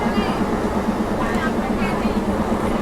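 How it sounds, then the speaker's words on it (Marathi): Passenger train pulling into a station, a steady rumbling hum with a droning tone and faint metallic squeals, under the murmur of people talking nearby. "तर अशा प्रकारे आमची ट्रेन आलेली आहे"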